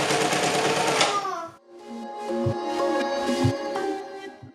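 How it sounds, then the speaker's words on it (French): A sewing machine runs a zigzag seam through fabric for a baby's harem trousers, a dense steady whir for about a second, then a pause and a lighter, rhythmic pulsing stitch with regular thumps of the needle. "Je vais commencer par la ceinture, que je vais coudre pareil endroit contre endroit, toujours avec une couture zigzag pour éviter que le fil ne se casse."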